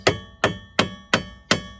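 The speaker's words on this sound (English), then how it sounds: "Took a small hammer, tapped on it" A small hammer taps a strut nut during a 2006 GMC Acadia strut replacement: five sharp, evenly spaced metallic taps, close and clear with no talk.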